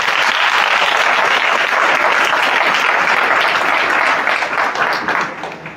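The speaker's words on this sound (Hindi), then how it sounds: "ताली मारी ईश्वर को धन्यवाद" A church congregation bursts into loud, sustained applause, many hands clapping together in a dense wash that carries on for several seconds before easing slightly at the end.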